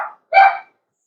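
A dog gives two quick barks close by, a short yip followed by a fuller bark, then silence.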